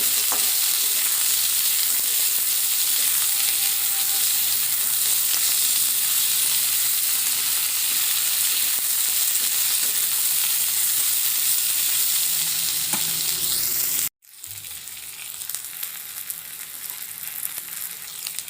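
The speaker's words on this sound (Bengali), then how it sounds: "দিয়ে দেবো পেঁয়াজ কুচো, দিয়ে দেবো টমেটো কুচি। খুব ভালোভাবে একসঙ্গে ভেজে নেব।" Chopped onion and tomato fry in a pan with a loud, dense, continuous sizzle, then cut abruptly to a slightly quieter but still steady frying hiss with faint stirring.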